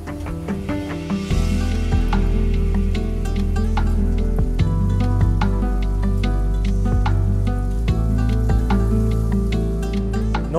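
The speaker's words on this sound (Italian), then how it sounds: "Andiamo a reinserire la carne precedentemente rosolata." Browned meat goes back into a buttered pan at an Emilian restaurant, setting off a steady, close crackling sizzle with small pops and scraping stirs throughout, no voices over it.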